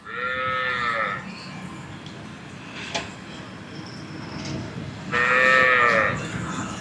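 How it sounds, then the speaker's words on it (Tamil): Cattle low loudly at a busy cattle market trading Kangeyam-breed animals, two long harmonic moos standing near and clear, one at the start and another near the end, over a steady murmur of crowd and market noise. "நல்ல பெரிய மாடு, கண்ணு மாடு,"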